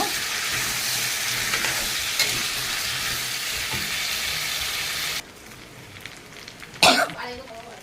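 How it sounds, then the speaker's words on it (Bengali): Raw papaya and potatoes fry in spiced oil in a pan, giving a steady loud sizzle for about five seconds. The sizzle then drops away, followed by a short louder clatter of stirring. "আমি এখন এটাকে ভালো করে কষিয়ে নেব।"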